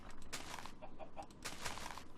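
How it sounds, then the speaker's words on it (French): A chicken clucks in a video game, faint and brief, under a noisy hiss of game sound. "Voilà, la poule aussi, elle le dit."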